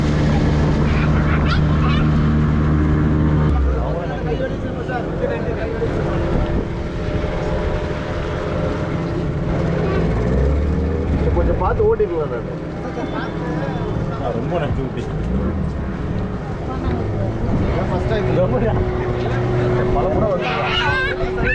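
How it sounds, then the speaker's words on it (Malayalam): A motorboat runs across water at a boat house, its steady engine drone and hull wash continuing throughout, with passengers chatting and a voice talking over the motor. "അങ്ങനെ നമ്മുടെ മോട്ടോർ ബോട്ടിൻ്റെ യാത്ര അവസാനിച്ചു"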